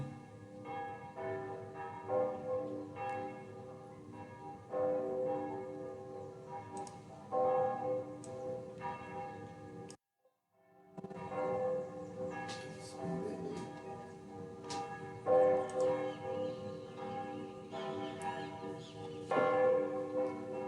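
Bells of Santa Marina church ring out in a steady, resonant peal with repeated strikes and a long ringing tail, broken by a brief gap, heard at moderate distance without talk.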